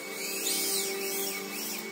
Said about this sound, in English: Drilling the last bearing, making sure the oil hole is happy.